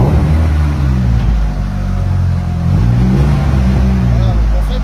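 A car engine runs loudly and close while gears are engaged without the clutch, the steady rumble dipping and shifting briefly mid-way before settling again.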